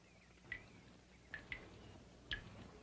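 Liquid dripping from a homemade still, four faint separate drops landing at irregular intervals over a soft background hum, with no voices.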